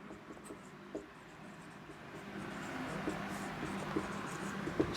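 Marker or chalk scratching across a classroom board for a coordinate geometry lesson, a steady soft scraping stream with a few small taps, close by and without speech.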